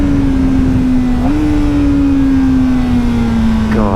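A new Kawasaki Ninja ZX-4RR with its stock exhaust is revved close up and held at a high, steady scream that dips slightly and drifts lower, loud and alone with no talk.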